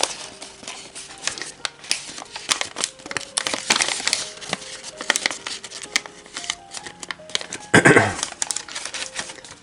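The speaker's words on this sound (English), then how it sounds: "now fold valleys on these two creases" Origami paper is creased and folded by hand, making a close run of crisp crackles, taps and rustles in irregular bursts, with one louder crinkle near the end.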